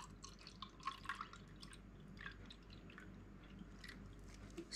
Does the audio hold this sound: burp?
no